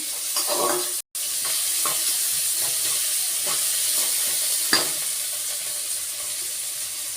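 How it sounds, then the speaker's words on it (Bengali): Crab drops into a hot pan of curry base and sizzles steadily, close and fairly quiet, with a brief clatter of stirring and no voices. "তো কাঁকড়া দিয়ে দিলাম"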